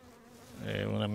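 Honey bees buzz around a hive during queen rearing, a close droning hum that swells louder within a brief moment.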